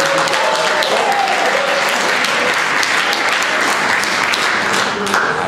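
An audience claps loudly and continuously for quiz contestants on stage, a thick, even burst of applause filling the space with no break.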